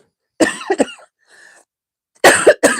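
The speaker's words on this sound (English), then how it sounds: "sorry, I'm coughing on you guys" A person coughs hard twice in quick succession, a short quiet pause follows, then another double cough, loud and close with silence around.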